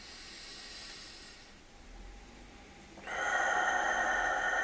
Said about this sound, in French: Encore une respiration.